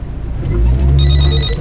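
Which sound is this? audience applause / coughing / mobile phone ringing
mobile phone ringing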